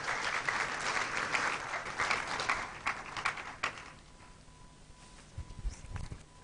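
Audience at a university freshers orientation day applauds a fire service team, a dense burst of clapping that thins out and fades after about four seconds into scattered claps and room noise.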